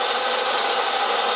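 A saw trap in the video game Limbo makes a loud, continuous, hissing grind like a spinning blade, steady and unbroken, heard up close and alone.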